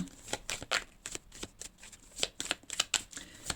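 Cards are shuffled and drawn for a tarot-style reading: quick riffles and slaps of the deck come in bursts, close and clear, with short pauses between them.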